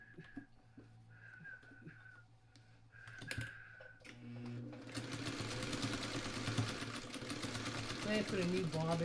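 Sewing machine stitching quilt binding toward a corner on a quilt carrier, starting after a few faint clicks and soft handling noises, then running as a steady, rapid mechanical whir that grows louder, with a voice talking underneath.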